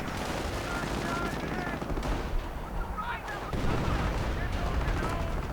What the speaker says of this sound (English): At the same time, the artillery is firing in.